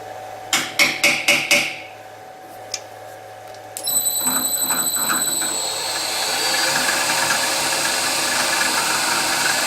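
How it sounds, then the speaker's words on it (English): A hammer strikes a punch into a wooden knife block, five quick ringing taps in a row, then a single tap, before a drilling machine whines up nearby. "I'm just going to put a little punch mark in there."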